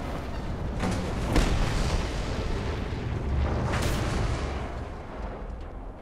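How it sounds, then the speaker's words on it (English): Deep, rumbling explosions in the Mad Max video game roll continuously, with two sharp blasts bursting through a dense, heavy roar that fades slightly toward the end; no talking. "cool guys don't look at explosions, Max."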